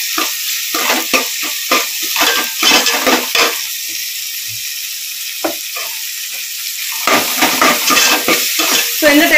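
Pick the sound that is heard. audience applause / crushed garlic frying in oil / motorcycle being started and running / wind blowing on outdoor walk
crushed garlic frying in oil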